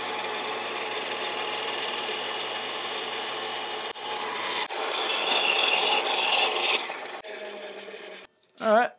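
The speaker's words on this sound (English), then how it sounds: "took some MDF, impregnated it with some rubbing compound, and see how quickly we can bring this knife back to sharp" A knife is stroked on an MDF strop loaded with rubbing compound. Close, continuous rasping and rubbing strokes shift in tone a few times before ending in short scraping sounds.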